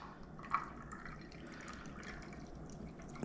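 Coffee drips through a strainer in a faint, quiet trickle, with one clearer drip near the start and soft liquid patter continuing throughout.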